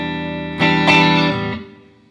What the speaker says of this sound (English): These ceramic pickups were voiced very nicely for Telecaster Fender clean tones